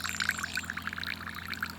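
Filtered water pours through a Millbank bag into a nearly full kettle outdoors, a faint, continuous trickle with gurgling bubbles throughout, close by and with no talk.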